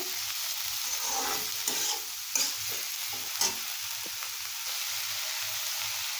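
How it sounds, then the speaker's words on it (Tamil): Chopped onions sautéing in a pan over medium heat with a little salt for onion chutney, giving a steady close sizzle with a few sharper scrapes and stirring clatters, no talking. "இன்னும் கொஞ்சம் நேரம் இதை நல்லா வதக்கணும்"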